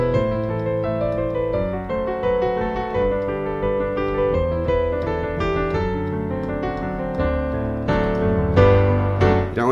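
Piano chords from the carol Angels We Have Heard On High ring out one after another, full and sustained, moving through a slow progression with no voices.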